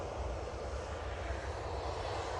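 An airplane at Manchester Airport makes a steady, distant engine roar. The broad rumble holds at an even, fairly faint level throughout, with no voices.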